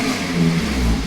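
A Honda K24 engine swapped into a Toyota MR2 revs hard, a loud, steady mid-range roar that builds and deepens toward the end of the short burst, with no voices over it.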